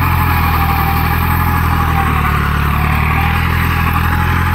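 A tractor drives a Maschio 7-foot rotavator cutting 1.5 to 2 inches into a field, its engine droning loud and steady under heavy load with continuous mechanical clatter.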